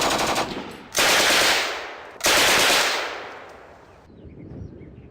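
Light machine gun fire in the World at War strategy game, heard as three long sustained bursts of rapid shots with brief gaps between them, loud and dense and fading at the end.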